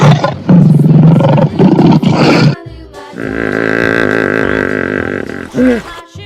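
A lion roars in a single long, loud call lasting a couple of seconds, coming after a louder burst of mixed sound and ending with a short grunting tail.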